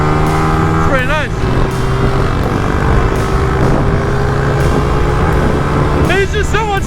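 A dirt bike engine roars hard at full throttle nearby, a loud sustained drone with rising and falling revs, while a voice shouts excitedly over it.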